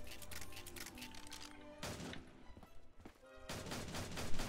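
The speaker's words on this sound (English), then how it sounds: "Funny shotgun." Striker shotgun firing in Black Ops 3 custom zombies, loud booming blasts in bursts between game music and effects, several shots spread across the stretch with no talking.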